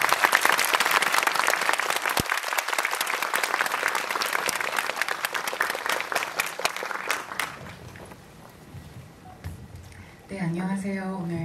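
Audience applause at a film screening during a Busan International Film Festival guest talk: loud, dense clapping from a theater crowd sustained for about seven seconds, then fading into scattered claps and murmurs before a voice begins speaking.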